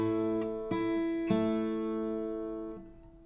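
Acoustic guitar played in a song's picking pattern: a few plucked notes on the strings, each ringing out and overlapping, with a slow, deliberate rhythm and clear sustain, alone without talk.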